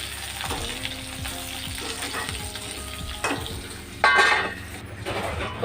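Garlic and cumin seeds fry with green chilies in a pan for a Guntur gongura pickle, a moderate close sizzle with spoon scrapes and a brief louder burst of crackling near the end, no talk.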